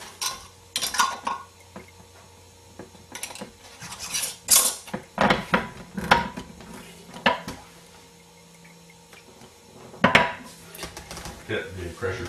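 Canning jar lids and metal bands being put on and screwed down for homemade salsa, a run of close clinks, taps and scraping twists in irregular bursts with quiet gaps between them.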